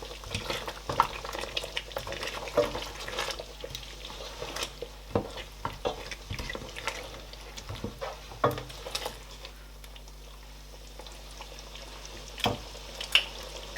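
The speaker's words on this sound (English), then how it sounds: "Now I'm going to mix and taste for maggi and salt." Egusi and okra soup with pounded habanero pepper and ogili stirred in a pot, giving soft irregular scrapes and clinks against a steady low simmer, close and moderately quiet with no talk.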